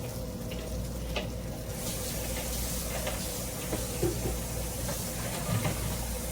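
Corn cake batter frying on a hot skillet gives a steady, soft sizzle and crackle that holds evenly throughout, close and fairly quiet, with faint pops and no talking.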